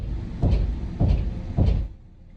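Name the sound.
knocking on a door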